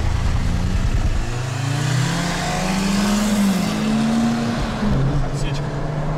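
A 16-valve VAZ 2109 and a 3.0 TDI Audi Q7 accelerate hard in a drag race, with loud engine roar climbing in pitch through the gears and voices talking nearby.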